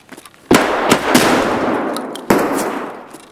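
Gunfire in the game Escape From Tarkov: sharp, loud shots, one near 0.5 s, a few lighter cracks after it and another burst near 2.3 s, each trailing off into a long echoing decay.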